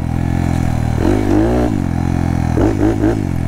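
A 181cc Monkey motorcycle runs on a trail, its engine loud and close with a steady idle-like drone broken by two short rising revs.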